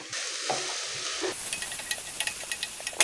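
Garlic sizzles loudly in hot oil in a pan while lasagna is being prepared; a bright, steady hiss settles after about a second into quieter frying broken by light scraping taps of stirring.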